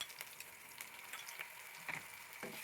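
Two spoons of ginger garlic paste frying with onion in a pan for egg biryani, a soft continuous sizzle with light stirring scrapes and taps, close and quiet.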